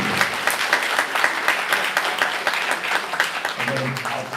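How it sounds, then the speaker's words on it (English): An audience claps warmly for a string trio of violin, viola and cello at an annual gala, dense sustained applause with a voice briefly heard near the end. "Let's give them a round of applause"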